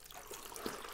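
Water trickles and splashes faintly as soap is rinsed out of dyed cotton fabric, a short, quiet, uneven dribble with a small splash near the end.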